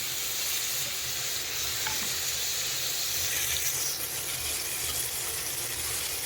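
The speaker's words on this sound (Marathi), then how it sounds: "जिरे टाकायचे आहेत आणि एक टोमॅटो पण टाकायचा आणि छान तेलावर हा अलीकडेच इकडे परतून घ्यायचं आहे आपल्याला" Cumin and tomato sauté in hot oil on a wood-fired chulha, a constant close sizzle with faint scraping stirs now and then and a low, rumbling undertone running throughout.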